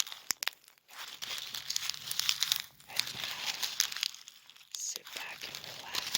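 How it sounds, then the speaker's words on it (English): Sheets of paper crumpled and crinkled close to the microphone in a casual ASMR bit, dense crackling bursts with short pauses between handfuls, under soft murmured voices. "Paper ASMR."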